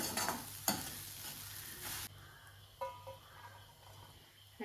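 Fennel and black pepper powder being stirred into pepper rasam in a pan: a faint, soft sizzle with a few scraping stirs and light knocks, quieter in the second half.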